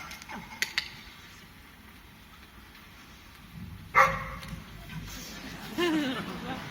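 A small dog gives a short, sharp bark midway through, followed a moment later by a couple of softer yips, against a quiet room.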